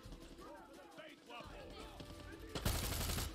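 Gunfire in the video game Far Cry 6, sustained rapid shots with a loud automatic burst near the end, heard under voices and game sounds.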